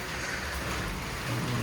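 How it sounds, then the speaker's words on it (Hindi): Heavy, non-stop rain falling on a hillside home in the mountains, a dense steady hiss close by and fairly loud, with no pause and no talk. "बारिश हो रही है यहाँ पर।"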